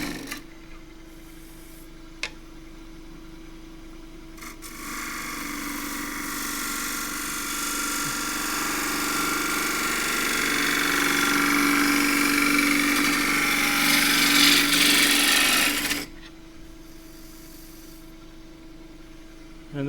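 A gouge cuts a green pistachio bowl spinning on a wood lathe, giving a steady, loud broadband hiss over the motor hum for about eleven seconds before it stops, leaving the machine running quietly.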